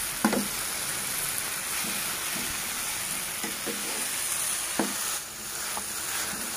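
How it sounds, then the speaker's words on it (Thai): Sticky rice with sugar being stir-fried in a pan for a taro and banana filled rice dish, a steady close sizzle with repeated scraping stirs of a utensil, no voices. "แล้วก็จะผัดผัดคนไปเรื่อยๆนะคะ"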